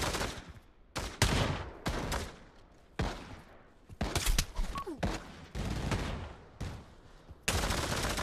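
Rapid bursts of automatic gunfire in the VR shooter Pavlov VR, loud, close crackling volleys repeating across the span with brief gaps between them.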